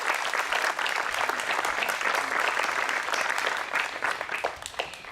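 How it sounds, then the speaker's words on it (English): A crowd at an outdoor civic band concert on July 4th gives sustained, dense applause for about five seconds, easing slightly near the end. "We should give them a round of applause for that."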